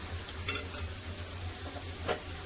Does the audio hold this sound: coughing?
no